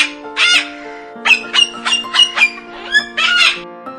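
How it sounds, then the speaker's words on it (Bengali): A dove calls in a string of short, bright chirps and clipped notes, some in quick bursts, heard close and clear over light background music. "ঘয়ে ঘুঘু পাখি।"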